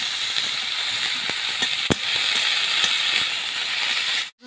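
Shredded cabbage and a little onion fry in oil with a steady broadband sizzle, broken by a few sharp clicks and taps of a utensil against the pan, ending abruptly.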